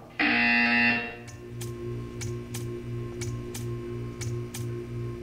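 A loud electronic buzzer from the video game Portal 2 blares for about a second, then a quieter steady ticking and hum continue alone.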